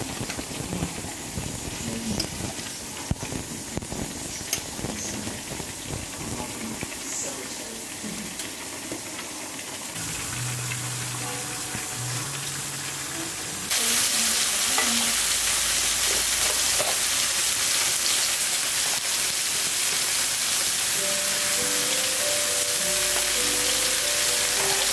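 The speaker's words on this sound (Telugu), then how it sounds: "ఇప్పుడు రైస్ని కలిపేద్దాం ఫ్రెండ్స్" Rice is stirred and mixed in a frying pan over a continuous loud sizzle, with scraping and clinking of the utensil against the pan throughout and the frying hiss growing stronger midway.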